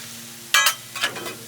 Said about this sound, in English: you really only need to cook the shrimp maybe 2 minutes on each side